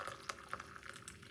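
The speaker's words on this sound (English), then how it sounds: "pour some hot water into the cup like this" Hot water poured into a cup, a faint trickling splash with small gurgles and drips over about a second and a half, quiet and with no talking.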